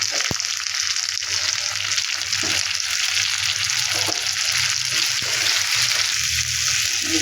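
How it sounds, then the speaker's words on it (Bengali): Chopped tomatoes frying with onion and garlic in a pan, a dense continuous sizzle with faint bubbling and an occasional light tap, close and steady throughout with no voices. "পেঁয়াজ আর রসুনের সাথে ভালোভাবে এগুলো ভেজে নিয়েছি এবার দিয়ে দেব টমেটো কুচি"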